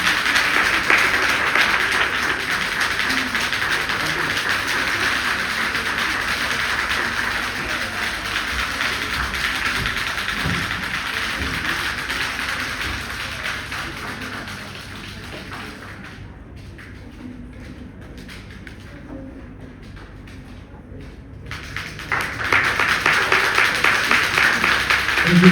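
Steady, dense applause from an audience at an on-stage plaque presentation, sustained for a long stretch, thinning briefly toward the end before swelling back to full strength.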